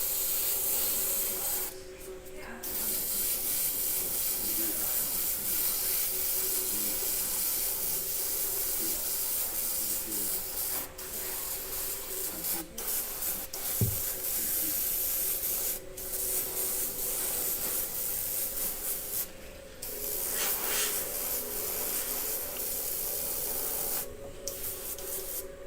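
A continuous airbrush or spray hiss runs steadily for the whole stretch as paint goes onto a 1/4-scale Apocalypse model, with brief breaks where the spraying pauses and restarts.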